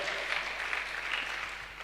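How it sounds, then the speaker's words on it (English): A lecture audience claps to honor a retired university administrator, a brief burst of dense, steady applause at even volume. "please give her a round of applause"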